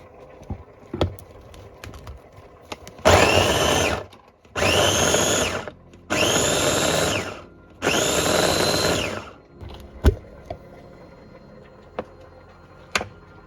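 A food processor whirs through fresh tomato and garlic in four loud bursts of about a second each, separated by short pauses, with a few faint clicks and taps after the last pulse.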